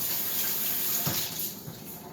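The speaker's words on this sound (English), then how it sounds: "And wash your hands." Steady water running from a kitchen tap while hands are washed during omelette cooking, a close, continuous splashing rush with no talk.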